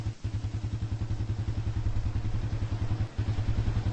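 A video game motorbike engine drones steadily with a rapid, pulsing low rumble, close and continuous, briefly dipping near the start and again just past three seconds.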